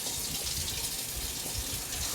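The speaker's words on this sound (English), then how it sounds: "simply use your tap water, put it on the highest setting" Tap water gushes steadily from a kitchen faucet turned to its highest setting while yeast is being prepared, a loud continuous hiss and splash close to the microphone with no voices.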